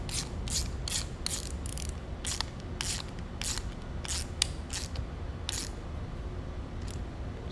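A bolt is threaded into an aluminum housing, making a quick series of faint, crisp ratcheting clicks in irregular bursts over a low background hiss.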